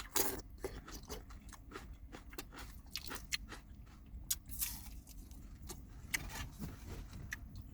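Close, crisp crunches and crackles of someone biting and chewing fried dried fish (tuyo) with tomato, irregular sharp bursts over a quiet, faint background.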